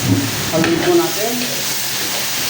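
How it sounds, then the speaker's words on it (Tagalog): Soy sauce sizzling and being stirred in a hot pan for adobong kangkong with tofu, a steady close fry with light scraping, a little voice faintly underneath. "Haluin po natin."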